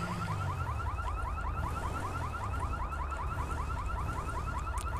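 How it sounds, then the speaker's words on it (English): A car alarm blares in the GTA 5 video game, a steady repeating warble that cycles through the whole stretch over a low rumble of idling engine and ambient traffic. "It's got this car alarm going off."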